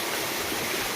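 A waterfall and stream pour outdoors in a steady, close, broadband rush of water, with no pauses and no voices over it.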